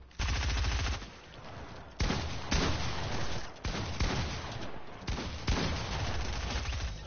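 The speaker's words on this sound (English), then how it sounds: "he sprays an SMG" An SMG sprays in a video game in several rapid, loud bursts of automatic fire, each volley close and harsh, separated by brief pauses.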